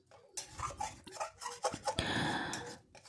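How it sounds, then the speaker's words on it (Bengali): A food mixture with sugar stirred slowly in a kadai makes soft, close scraping and clinking strokes, then a longer continuous scrape near the end, with no voices. "আর দিয়ে নিয়ে এইটাকে এবারে আমি আস্তে করে নেড়ে নিচ্ছি"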